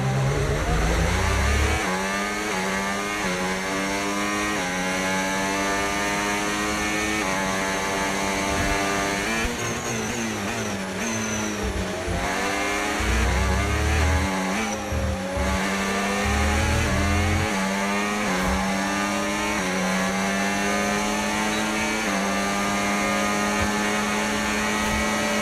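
An F1 race car in the F1 25 video game screams at high revs under overtake, a loud continuous engine whine that rises and falls with gear changes over the whole stretch.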